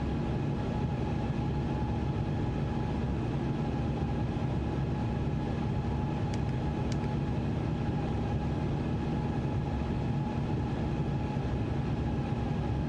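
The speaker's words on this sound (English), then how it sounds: "The sounds in this plane are really cool." Steady airliner cabin drone inside an Airbus A350 in flight, a constant low rumbling hum with faint tonal whine, unbroken throughout with no talking.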